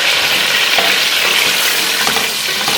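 Chopped beef fries loudly in a pan for nehari, a dense close sizzle with soft stirring scrapes underneath and no voices.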